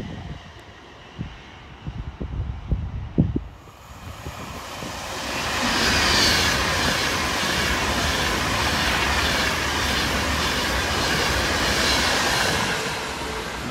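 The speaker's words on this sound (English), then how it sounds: "Avanti West Coast train nearly catch me off guard" An Avanti West Coast Class 390 electric train races past at Stafford on the West Coast Main Line. Its rushing roar swells suddenly after a few quiet seconds and holds loud and steady as the carriages sweep by.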